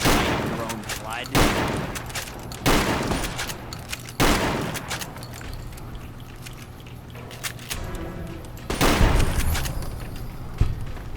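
Repeated heavy gunfire in modded Fallout: New Vegas, loud blasts at roughly one-to-two-second intervals with reverberant tails and a dense burst near the end, under a voice speaking.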